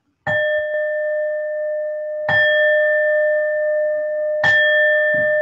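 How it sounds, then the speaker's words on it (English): A gong rings out three times at a steady pace, about two seconds apart; each strike begins with a sharp attack and then sustains a bright, steady ringing tone that carries on between hits, close and loud with no voices over it. "I'm going to do the gong 3 times"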